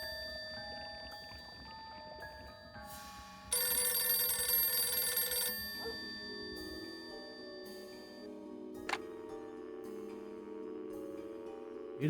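A telephone rings in the point-and-click horror game Dracula 3, a bright electronic ring rising for about two seconds over a soft ambient game score, then fading back into the music alone.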